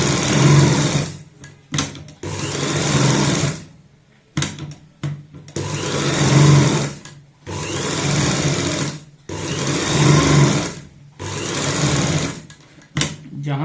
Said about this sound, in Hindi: इसको सबसे पहले हमें बाहर की साइड से सिलाई करना है